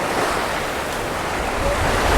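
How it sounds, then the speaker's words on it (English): Surf breaking on a crowded beach at Alcudia, Mallorca, a steady roaring wash of rough sea waves with some wind noise, continuous and fairly loud, swelling slightly toward the end. "The old sea's a bit fierce, isn't it?"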